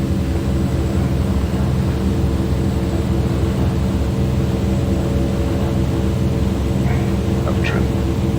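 Twin Otter turboprop engines in Microsoft Flight Simulator 2020 on a flight in Iceland, a loud steady droning hum with constant propeller tone as the throttle is pushed up, with a voice talking over it.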